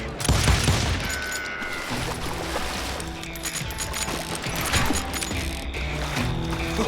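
Gunfire from the Call of Juarez: Gunslinger video game, a loud dense barrage of shots and impacts that continues without a break over a busy game soundscape.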